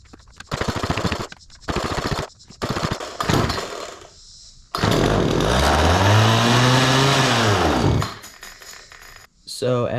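A Poulan chainsaw with its chain removed sputters through several short bursts, then catches and runs loud and steady for about three seconds, revving up and back down with no cutting load before cutting out.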